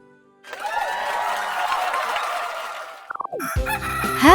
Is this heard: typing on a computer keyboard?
no